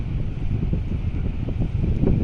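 Steady wind buffeting a boat at sea, a low rumbling roar with gusty fluctuations and faint water wash, continuous and close to the microphone with no talking.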